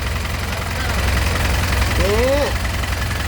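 Hino FC9J truck with a 175-horsepower engine idling, a steady close rumble running throughout, with a voice briefly speaking over it.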